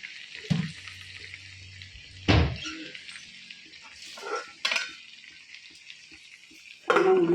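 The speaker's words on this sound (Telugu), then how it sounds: "బెండకాయ వండేస్తున్నానండి" Okra (lady's finger) fries in a pan with a few loud bursts of sizzling and stirring. Quieter crackle fills the gaps between the bursts, with no speech.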